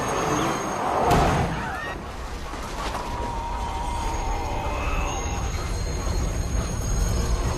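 A train rushes past at speed in a scene from The Incredibles, a dense roaring rumble of wheels on rails with a whoosh early on and faint squealing tones, loud and continuous.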